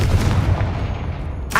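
A Confringo blasting spell bursts in the Hogwarts Legacy video game: a loud, sustained crackling explosion that fills the whole clip and flares again briefly at the end, with no talking.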